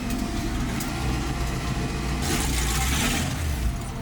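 A supercharged 1965 Ford Mustang, running rich, brakes to a stop during a test drive. A steady low engine and road rumble runs throughout, with a brief broadband rush of tire and brake noise partway through.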